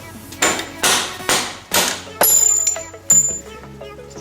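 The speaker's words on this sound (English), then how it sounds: "take a soft mallet, like so, and just gently bump this axle through the bike" Soft mallet gently bumping the front axle through the wheel of a 2009 Yamaha R6 sportbike: several separate dull knocks roughly half a second apart, fairly close, with some ringing metallic tones after the later hits.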